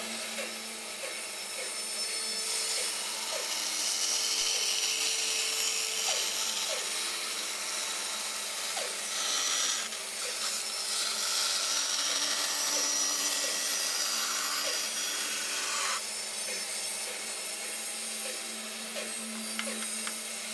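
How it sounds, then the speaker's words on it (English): A bandsaw fitted with a narrow 1/4 inch blade cuts the curved profile of a Kydex sheath, giving a steady, loud machine hum with a high whine over it. It runs continuously with no speech. "So I'm just going to cut it on a bandsaw. You don't need a particularly sharp blade, but this is just a very narrow 1/4 inch blade,"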